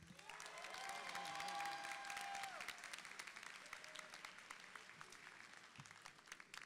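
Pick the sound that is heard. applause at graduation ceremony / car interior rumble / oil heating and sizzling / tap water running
applause at graduation ceremony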